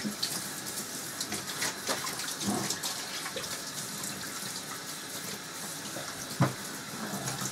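Tap water runs steadily to rinse descaling chemicals out of an old York cornet during restoration. It is a continuous close splash and hiss into a sink, with occasional metallic knocks as the instrument is handled.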